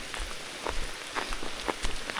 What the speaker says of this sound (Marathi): पाऊस बारीक बारीक बारीक बारीक चालू आहे दिवसभर